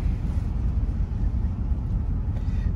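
A big 1966 Chrysler New Yorker with power steering rolling along, a low steady engine and road rumble heard from inside, continuous and even.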